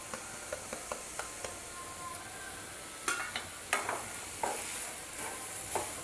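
Jaggery and poppy seed modak filling stirred in a pan as the jaggery melts, a soft, steady sizzle under a series of light scraping clicks, with a few sharper scrapes near the end.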